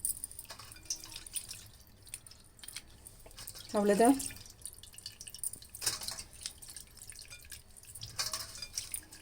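Water drips and trickles in a sink while a crab is cleaned by hand, quiet scattered splashes and one brighter drip burst near the middle, with a person speaking briefly.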